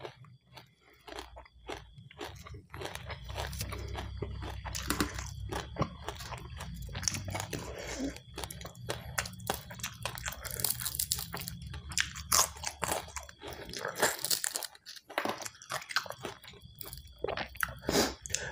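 Crispy fried sun-dried tilapia is bitten and chewed up close, with dense, irregular crunches and crackles that continue throughout.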